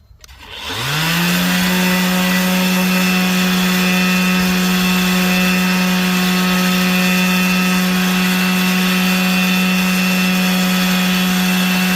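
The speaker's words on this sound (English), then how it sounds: "I'm going to switch back to my orbital just to level everything out a little bit" An orbital sander works a Weld Racing truck wheel with 320 grit, spinning up in under a second to a loud, steady, close whine that holds unchanged throughout, with no voices.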